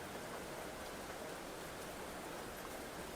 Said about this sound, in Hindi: देखो अभी बरसात बहुत तेज हो रही है इस समय यहाँ पर